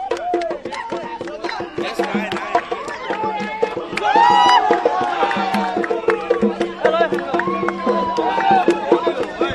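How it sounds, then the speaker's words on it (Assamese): A celebrating crowd cheers and chatters while firecrackers burst in sharp, repeated cracks and dhol drums beat in a busy rhythm, the whole scene dense and loud throughout. "তেওঁলোকে ফটকা ফুটাইছে আৰু হাতত ঢোল লৈ তেওঁলোকে এনেধৰণে নাচি নাচি"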